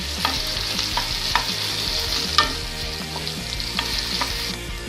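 Onions fry in hot oil with cumin seeds in a pan, a dense continuous sizzle close up with faint stirring taps and small pops scattered throughout.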